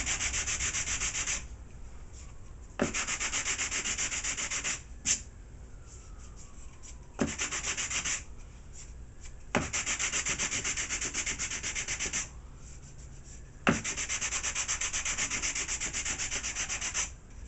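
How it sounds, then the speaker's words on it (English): Close, steady sanding strokes rasp across a Monocoat-covered balsa boom of a V-tail model plane, in several long passes separated by short pauses and sharp taps. "So I'm going to just do a quick sand here, just to smooth it out."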